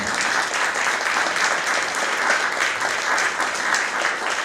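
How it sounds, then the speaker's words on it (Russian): Audience applause in a concert hall during a composer's memorial evening, a dense, steady clapping that stays loud and even throughout with no voices over it. "Давайте ее поприветствуем также аплодисментами."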